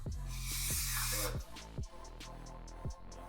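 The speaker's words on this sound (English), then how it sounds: "So I'm gonna spray this down in here" A loud aerosol spray of cleaner into an engine part of a BMW X3 with an N52 engine hisses for about a second and a half, followed by a few shorter bursts, close by with a faint hum underneath.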